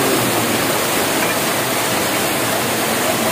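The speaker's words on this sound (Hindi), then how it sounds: "पानी है, झरना है" A mountain waterfall roars as a constant, loud, broadband rush of falling water, unbroken and close, with no voices over it.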